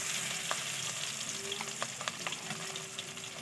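Fish fries in hot mustard oil, a dense, even crackling sizzle close by, with light spatula clicks and scrapes scattered through the final seconds.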